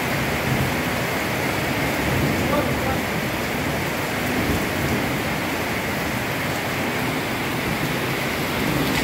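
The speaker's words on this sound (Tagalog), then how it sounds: "Malakas na yung kulog." Typhoon Opong bringing heavy rain, a thick constant roar of downpour drowning out everything else, with no distinct thunder crack standing out.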